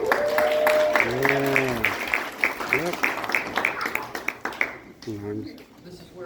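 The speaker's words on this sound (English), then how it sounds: "Round of applause." Audience applause at a military promotion ceremony to captain, sustained clapping beneath a speaking voice that talks over it and fades toward the end.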